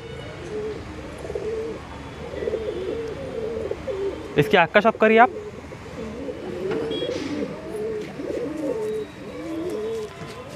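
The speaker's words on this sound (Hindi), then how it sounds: "दोस्तों ये पेटी में रखा है दोबाज कबूतर का जोड़ा" A pair of Dobaz pigeons in a box cooing softly and repeatedly close by, with a brief flurry of flapping wings midway, while someone talks over them.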